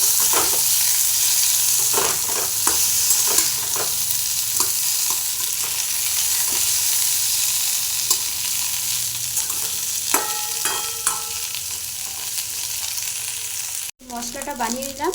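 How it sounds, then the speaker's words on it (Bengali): Chicken pieces fry in a pan in a home kitchen while a spoon stirs them, giving a loud steady sizzle broken by repeated scraping clinks, with a brief pause near the end. "চিকেনটা দিয়ে একটু ভাজতে থাকবো।"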